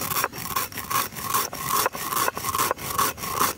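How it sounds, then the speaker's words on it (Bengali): Dry-fried sago ground on a dry stone grinding slab, heard as rhythmic, close, rasping back-and-forth strokes of stone on stone, about two per second, with no talk. "শুকনো কড়াইয়ে ভেজে নেওয়া সাবু আমি শুকনো শিলে বাটতে শুরু করবো"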